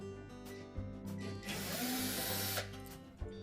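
A power screwdriver backs screws out of the top panel of a Whirlpool dryer, whirring in short close bursts that rise into a steady high buzz, with light clicks of metal handling between them.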